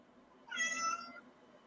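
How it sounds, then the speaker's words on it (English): A cat gives a single clear meow, fairly quiet and close, rising briefly and fading away against a low background hiss with no talking. "That cat, right?"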